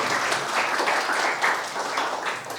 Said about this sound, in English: At least have a clap on the behalf of Ramdhari Singh Dinkar ji